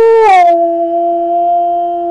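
A single loud, close wolf howl sound effect opens with a brief rising yelp, then settles into one long sustained tone that holds steady to the end.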